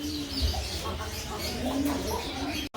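A ringed pigeon coos softly, low throaty murmurs rolling over faint background chirps and ambient noise at moderate distance.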